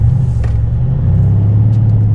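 A Mercedes C63S AMG with its exhaust valve module switched on rumbles loudly at close range, a deep throbbing burble with crackling pops running steadily throughout.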